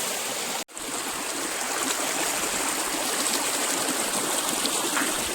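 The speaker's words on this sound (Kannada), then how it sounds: "ನೋಡಿ ನೀರು ಇದೆಲ್ಲ ಬೆಟ್ಟದ ಮೇಲಿಂದ ನೀರು ಬರ್ತಿರೋದು" A clear mountain stream flows down from the hill, with a steady, close rush of running water and no talk. There is one brief dropout near the start.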